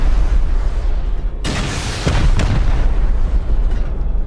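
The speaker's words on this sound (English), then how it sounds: "Sending a rocket." In the game Rust, a rocket is launched and explodes with a loud, close boom. Rumbling noise follows, and the blast fades gradually over a few seconds.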